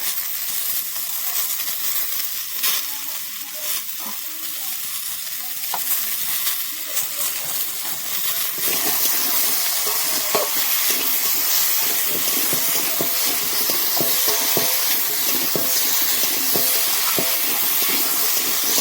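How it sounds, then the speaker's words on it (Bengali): Spices with turmeric and salt sizzle as they are sautéed and stirred in a hot pan, a steady hissing fry with scattered scraping clicks that grows slightly louder partway through; no one speaks. "ভালো করে কষিয়ে নেবো"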